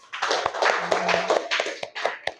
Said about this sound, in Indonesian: Beri tepuk tangan untuk kawannya.